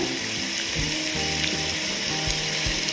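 Marinated chicken frying in sunflower oil and butter, a loud continuous hiss and sizzle close up, with rattling clicks of the pan and utensil scattered through it.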